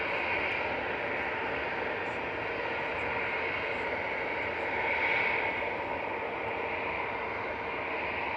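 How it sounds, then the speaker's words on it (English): Eurowings Airbus A320-200 arriving from Dusseldorf to land at Manchester Airport, a steady broadband engine roar held at moderate distance for several seconds, swelling slightly midway, with no talk over it. "next in, just about to go Cheadle, is Eurowings from Dusseldorf, A320-200"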